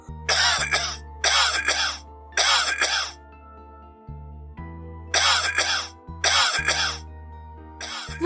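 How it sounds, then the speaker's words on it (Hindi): A man in a cartoon story coughs over and over in harsh, closely spaced bursts, five loud coughing fits separated by short pauses, with a low tonal hum underneath. "वो लगातार खांसता ही जा रहा था।"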